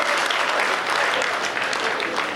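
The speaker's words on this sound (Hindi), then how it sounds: "एक बार जोरदार तालियां बजा दीजिए।" An audience at a Hindi comedy poetry gathering (hasya kavi sammelan) bursts into loud, dense, continuous applause, a sustained crowd clap filling the whole moment with no speech on top.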